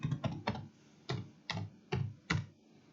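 Keys on a computer keyboard being typed in short bursts while filling in a sign-up form, seven crisp clustered clicks spaced irregularly, close and fairly loud with no talking.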